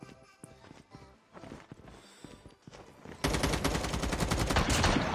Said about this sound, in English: Yeah, that's the M4.